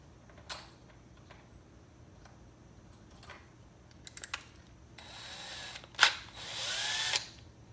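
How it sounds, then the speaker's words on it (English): An electric drill spins up briefly on an AR rifle barrel to cut a small dimple, with a few light clicks first, then short whirring bursts rising to a loud, close run near the end. "all I'm gonna do is take my drill,"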